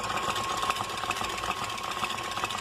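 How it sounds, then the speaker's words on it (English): A KitchenAid stand mixer whirs steadily while beating eggs, a constant, close motor hum with a fast rhythmic whir and no pauses, with no talking. "I've got my eggs mixing over in the KitchenAid."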